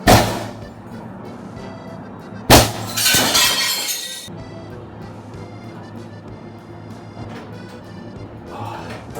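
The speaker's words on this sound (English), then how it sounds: "there's another pane of glass here that I also have to break" Glass panes in a door smashed by hand: a sharp initial crack, then a second loud shattering burst with tinkling shards falling for over a second, followed by quieter rustling and handling noises.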